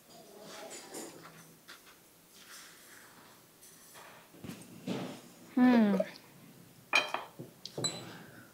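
A spoon stirs two spoonfuls of melted butter in a bowl for a chocolate cheese jar cake, giving a few sharp clinks against the bowl amid soft scraping, with a voice speaking at times.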